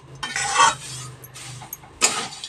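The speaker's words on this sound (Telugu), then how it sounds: "కొంచెం ఒక 2 మినిట్స్ అట్లా ఫ్రై చేయనిద్దాము" Flattened rice (atukulu) being stir-fried in a pan: two bursts of scraping and rustling as a spatula tosses the flakes, with quieter sizzling between them.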